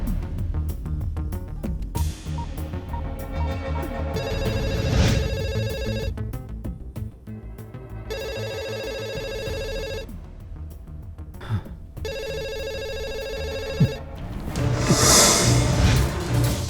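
A telephone rings in repeated electronic bursts separated by short pauses, over a steady low background rumble, with no talking.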